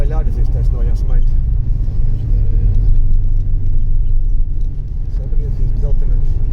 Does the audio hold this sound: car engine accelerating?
yes